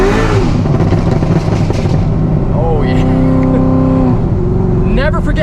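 A 1,200-horsepower Corvette ZR1 revs up to warm its tires: a loud, steady engine roar with rising and falling rev sweeps heard from inside the car, a voice talking over it.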